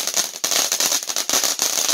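Rapid strings of firecrackers pop and crackle nearby during 3rd of July fireworks, dense bursts of sharp snaps with short gaps between them.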